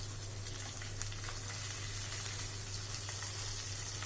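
Green chillies fry in oil in a pan with a steady, even sizzle and crackle, close and continuous with only slight variation and a faint low hum beneath.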